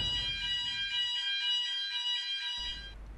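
A fire alarm sounds loud and close in a building, a continuous shrill electronic tone that carries on for a few seconds and then trails off.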